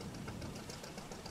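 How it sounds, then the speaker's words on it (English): A fishing boat's old diesel engine chugs steadily in the game Fishing: Barents Sea, a continuous low rumble with no talk over it. "with the old chugga-chugging diesel engine"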